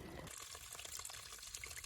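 Water flows steadily at a spring along the Pacific Crest Trail, a continuous close trickling and splashing rush that carries on alone.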